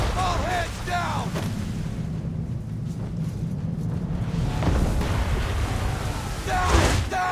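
Ship cannons firing in Assassin's Creed III during a naval battle: a steady, heavy rumble of booming fire under shouted orders, with voices at the start and end.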